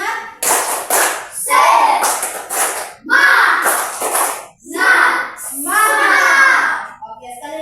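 Schoolchildren in an Indonesian classroom perform the rhythmic spirit clap, tepuk semangat, with bursts of clapping mixed with loud chanting voices, close and lively.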